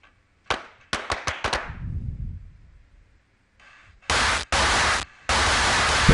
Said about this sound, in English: Try some different distortions here. See, that's a lot louder.